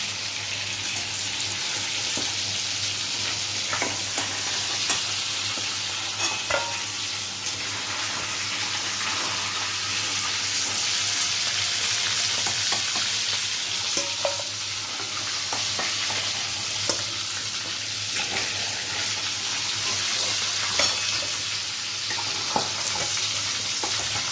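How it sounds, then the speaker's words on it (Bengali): Pieces of pangas fish frying in a pan of hot oil, a continuous close sizzle with scattered sharp pops and spatters throughout, no talking. "বাকি মাছগুলোকেও এইভাবে ভেজে নিচ্ছি।"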